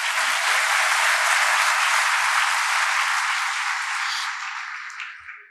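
Steady, loud applause from an audience at a school award ceremony with a regional prize presentation, sustained throughout and tapering off at the end.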